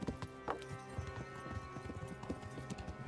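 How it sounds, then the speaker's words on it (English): Horse hooves clip-clopping in a quick, steady rhythm in the medieval video game Kingdom Come: Deliverance, fairly close and alone, with a faint whinny-like tone in the mix. "Can your horse ride a little bit faster than mine or run the same pace?"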